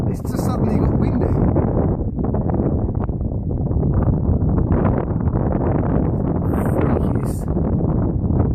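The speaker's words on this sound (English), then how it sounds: "It's just suddenly got windy." Sudden high winds from a roll cloud storm front over Dover, Kent, England, battering the microphone with a loud, continuous roar and gusty buffeting throughout, no voices heard.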